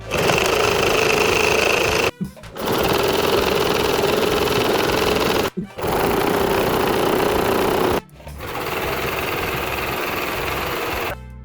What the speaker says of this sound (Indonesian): Kemudian kita jahit satu persatu mahkota bunga, seperti ini caranya.